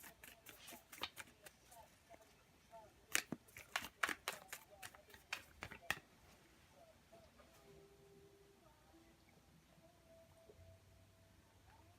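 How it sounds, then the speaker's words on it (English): Tarot cards being shuffled by hand in a quiet room, a run of sharp riffling clicks and taps over the first six seconds, then fading to near silence with faint background hum. "A little bit more shuffling for you, Aquarius."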